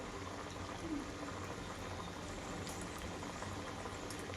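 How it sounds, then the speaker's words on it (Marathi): Dal vadas frying in hot oil give off a soft, constant bubbling sizzle close by, even and unbroken for the whole stretch, with no voices. "तेल आपलं गरम झालेलं आहे आणि वडे आपण एक एक आता सोडू"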